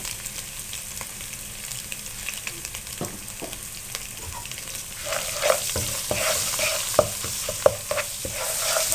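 Food fries in a pan while chicken macaroni is being made, a continuous close sizzle with scattered clicks and scrapes of stirring that grows slightly busier toward the end.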